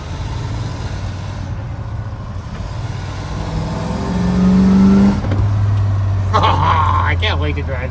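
A cold 429 V8 with a double-pumper carburetor, rough and uneven as it revs up, rising to a loud steady roar before dropping back to a low idle, with people talking over it.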